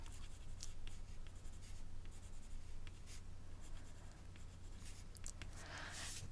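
Colored pencil scratching lightly over textured paper while coloring a flower drawing, a soft continuous rasp of strokes with brief louder sweeps, close and quiet, no voices.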